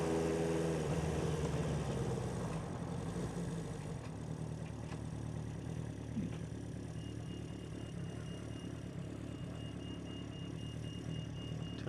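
A classic motorbike engine idles steadily after maintenance, a low continuous rumble close by that holds an even level throughout with no talk.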